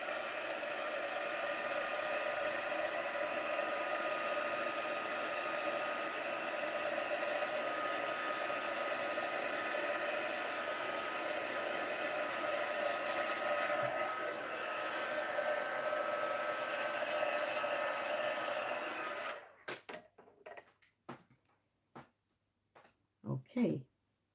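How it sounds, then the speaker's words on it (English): A heat gun blows steadily for about twenty seconds while drying a watercolor painting, a constant airy whoosh that stops abruptly, followed by faint handling knocks. "So I use a heat gun for that purpose."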